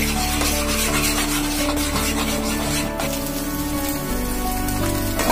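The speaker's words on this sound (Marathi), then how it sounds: "चवीनुसार मीठ टाकून हे सर्व फेटाळून घेऊया।" Eggs and salt beaten together in a bowl, a steady scraping, rattling texture that runs on without a break beneath a continuous tonal background.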